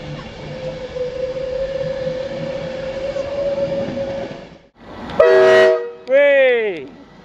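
A passing train, one locomotive numbered 82226, sounds its horn twice, loud and close, near the end after a steady rolling rumble. Voices cheer around the blasts.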